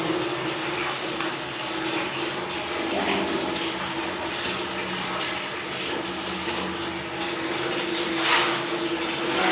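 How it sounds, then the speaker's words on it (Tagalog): Water runs in a steady, noisy rush, like a tap or pump flowing continuously, with faint clatter underneath, while a bathroom is cleaned. "Maingay yung ating tubig. Ganito siya guys, pag nililinis natin."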